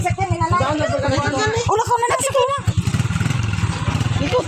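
A motorcycle engine runs close by with a steady rhythmic putter, with voices talking over it at first, then the engine continuing alone with a lower, rougher chug.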